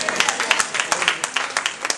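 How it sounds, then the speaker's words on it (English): A church congregation applauds with quick, uneven rhythmic clapping from many hands close to the listener, with faint voices mixed underneath. "Let me help those that did not applaud."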